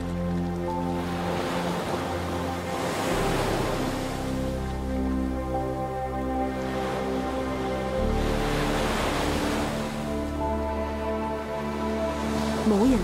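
Ocean surf where gray whales ride the waves rolls in steady swells, a loud, close wash of breaking water with low rumbling underneath and no speech.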